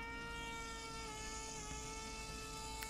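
A power planer strips foam from a surfboard bottom while a concave is shaped, giving a steady high-pitched motor whine with a constant buzzing drone.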